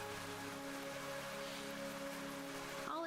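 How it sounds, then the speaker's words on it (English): Rain falls in a fantasy video game, a steady soft hiss of drops spread evenly under a sustained musical drone, ending with a brief rising chime. "Good thing I can make it rain."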